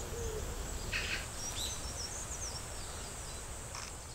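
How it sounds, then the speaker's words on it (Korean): Birds call at scattered moments through steady wind and insect hiss at the Bangudae petroglyph site in a riverside forest, with a few faint high chirps and whistles rising over the continuous outdoor background. "여기 이렇게 멋진 곳이 온갖 새소리가 다 들리는 방구대 너무 이뻐요"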